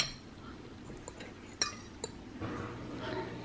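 A knife cuts into a fried egg with broken, cooked-through yolks on a plate, giving a couple of sharp, close metallic clinks against the plate amid soft scraping and low background hiss, with no talking.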